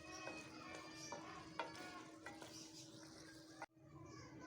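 A spoon stirs beef karahi gosht in a pan, a steady sizzle of frying with occasional scraping taps against the metal, close by, cutting off abruptly near the end.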